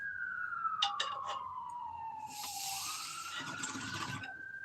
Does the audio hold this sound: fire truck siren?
yes